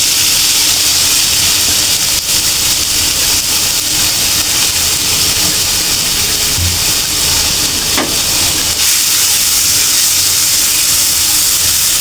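Grated carrot frying in a pan for halwa gives a loud, unbroken hiss and sizzle that holds steady throughout, with faint stirring knocks and no speech.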